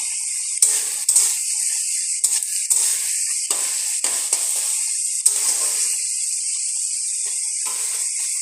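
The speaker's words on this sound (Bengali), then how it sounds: "পেঁয়াজটা ঠিক হাফ মানে ভাজা ভাজা একটু হয়ে গেছে, হালকা ব্রাউন কালার হয়ে গেছে" Sliced onions frying with salt in a pan, a steady close hiss of sizzling oil with intermittent scraping stirs and clinks, no talk.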